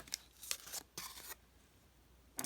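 Hand-held scissors cut paper close by: a few short snips, then a longer sliding cut, and one last snip after a quiet pause, with no talking.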